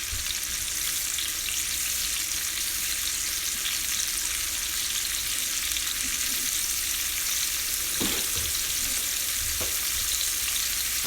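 Pork loin sears in an oily pan with a steady, even sizzle throughout, joined near the end by a few brief clinks and scrapes.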